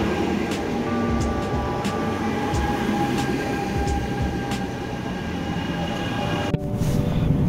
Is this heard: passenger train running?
yes